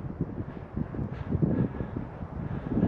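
Wind gusting steadily across an open farm field with sheep on a cold day, a rough low rumble buffeting the microphone throughout with no voices.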